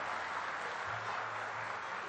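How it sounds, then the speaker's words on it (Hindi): Steady, dense applause from a large crowd in a literary-cultural festival pavilion at a poetry event, sustained and even throughout with no voices above it. "मैं चाहता हूं मंचस्थ हमारे सभी कवियों के लिए कम से कम यह साहित्यिक सांस्कृतिक पंडाल आपकी तालियों से गूंज जाए।"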